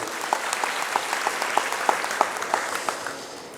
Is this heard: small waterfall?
no